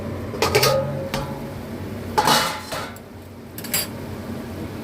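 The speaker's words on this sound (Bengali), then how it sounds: "এবার ঢাকাটা খুলে ফেললাম" A lid lifted off a cooking pan in a home kitchen, a few sharp metallic clinks and scrapes with short pauses between, close by over quiet background hiss.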